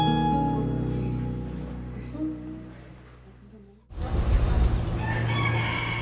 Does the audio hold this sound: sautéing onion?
no